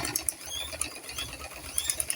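A sewing machine stitches a lined skirt in a short, close burst of fast, rattling mechanical whirring.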